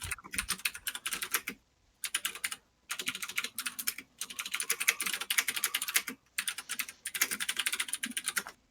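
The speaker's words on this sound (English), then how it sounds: "a lot of typing." Rapid clicking keystrokes on a computer keyboard come in dense bursts separated by brief pauses, close and clear with no talking.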